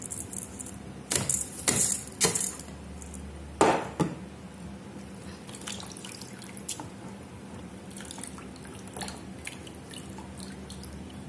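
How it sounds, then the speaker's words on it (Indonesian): Water is drained off boiled rice for ketupat rice cakes, with a few splashing pours and clatters early on, then steady close dripping and trickling. "Lalu setelah 10 menit kita tiriskan ini ya. Airnya kita buang."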